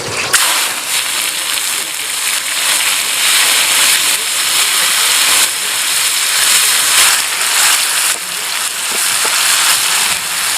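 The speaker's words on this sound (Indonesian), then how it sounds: "ini yang tadi sudah dipotongin kita goreng langsung" Chopped ingredients for a sweet-sour spicy shrimp and water spinach stir-fry sizzle loudly in a hot pan, a steady dense hiss with crackling that persists throughout.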